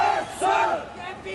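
A crowd of protesters shouts and chants near the parliament building in Nepal during a curfew, many voices rising and falling together in a loud, continuous roar with one swelling surge.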